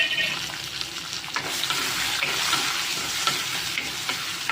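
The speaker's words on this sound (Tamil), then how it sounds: "ஒரு வெங்காயம், ஒரு தக்காளி ரெண்டையும் போட்டு வதக்கிடலாம்." Chopped garlic, onion and tomato sautéing in a pan for a Tamil lunch dish, giving a steady, close sizzle and crackle with occasional stirring scrapes throughout, no voices.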